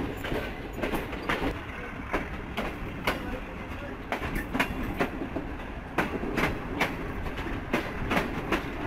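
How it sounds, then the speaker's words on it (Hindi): Train running on railway track between Mandi Bahauddin and Malakwal, with close rhythmic clickety-clack wheel beats repeating over a steady rolling rumble, loud and continuous throughout. "क्लियर हो गई है यहाँ से ट्रेन।"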